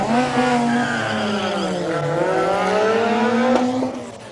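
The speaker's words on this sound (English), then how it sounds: "Oh, he knows how to burn a car." A Mazda RX-7 does a burnout at a classic car race meet in Cape Town, its tyres squealing loudly and continuously with a wavering, sliding pitch for about four seconds over the engine's roar.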